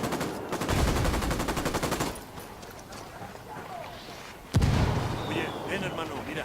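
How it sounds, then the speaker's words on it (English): A rapid burst of automatic gunfire, then quieter scattered shots and a sudden loud report in Ghost Recon Wildlands, with a voice talking over the fighting. "I'm shooting these fuckers. Sniper."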